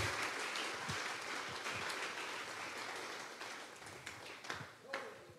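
A church congregation applauds in a sustained, dense wash of clapping, with a few louder individual claps and faint voices toward the end.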